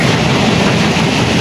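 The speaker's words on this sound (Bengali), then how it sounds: "ট্রেন" A passing train rumbles close by in a steady, loud roar with no breaks over a short span.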